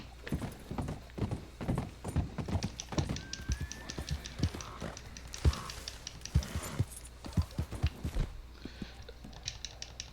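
Horse hooves clip-clopping in the video game Red Dead Redemption 2, a steady walking rhythm of crisp, close taps that carries on throughout over a quiet low hum.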